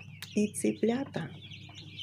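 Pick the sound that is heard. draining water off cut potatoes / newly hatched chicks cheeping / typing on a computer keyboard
newly hatched chicks cheeping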